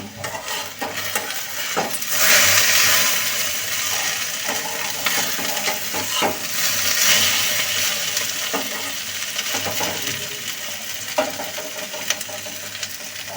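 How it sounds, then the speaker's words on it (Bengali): Vegetable fry being stirred in a pan on a home stove, a steady frying sizzle with scraping utensil strokes repeating throughout, close and continuous with no talking. "ভাজিটা একটু নেড়ে দিব"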